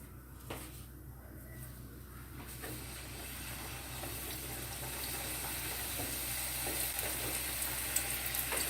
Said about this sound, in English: Let us fry now.